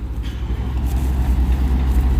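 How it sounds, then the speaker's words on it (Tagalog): Vehicles rumble past continuously on a road near a mountain, a steady low roar of engines and tires with no one speaking. "ingay ng ano, sasakyan guys"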